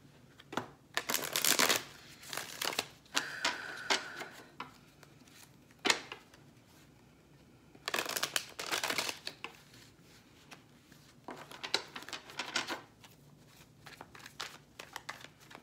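Radiant Rider-Waite tarot cards are shuffled close up in several bursts of riffling and flicking, with short quiet pauses between rounds and no talking.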